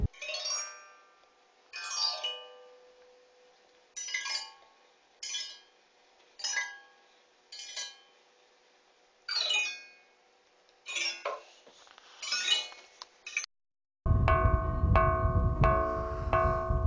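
A compact, unbroken block of solid stone is struck repeatedly at irregular intervals, each blow giving a clear, bell-like ring that slowly fades in quiet surroundings; near the end, loud music with a steady beat takes over.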